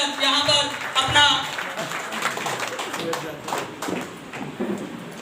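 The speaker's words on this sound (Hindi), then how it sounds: "जबरदस्त ताली होना चाहिए" Audience applause for a team leader at a celebration event: a crowd claps steadily for about five seconds, with voices mixed in beneath the patter.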